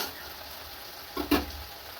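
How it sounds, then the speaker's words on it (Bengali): Onions fry in oil with a faint, steady sizzle and a couple of brief stirring clatters close by. "এগুলো পেঁয়াজ ভাজা হবে।"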